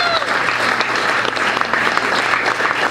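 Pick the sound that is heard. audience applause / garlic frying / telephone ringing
audience applause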